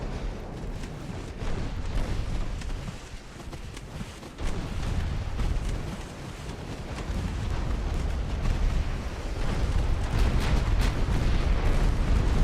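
Dense, continuous barrage of gunfire and booming blasts from a war video game, loud and sustained throughout with rapid overlapping shots and rumbling impacts, no voices.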